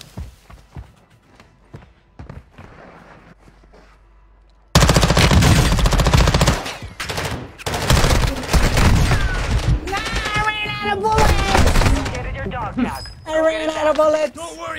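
Rapid automatic gunfire from a shooter video game, loud bursts starting abruptly after a quiet stretch of footsteps and faint sounds, continuing in dense volleys with explosions mixed in.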